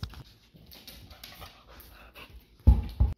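A dog pants with quick, soft, breathy puffs, close by, ending in a couple of louder bursts of sound near the close.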